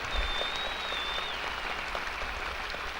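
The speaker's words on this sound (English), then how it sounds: "Applause, applause." A crowd applauds during a speech on space exploration, a steady wash of clapping heard from a distance, moderately loud and continuous throughout.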